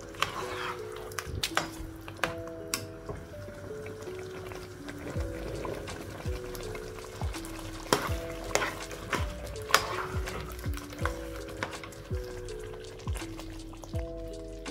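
Mashed cooked tapioca is stirred into kappa biryani in a pan, with repeated soft scraping strokes and wet squelches in an uneven rhythm over a faint background hum, close and without talk.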